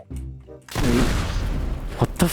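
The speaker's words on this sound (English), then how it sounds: "What was that explosion?" A loud explosion bursts in the multiplayer video game Teardown after a few quiet voice sounds, a sudden broad blast followed by crackling debris and smaller pops.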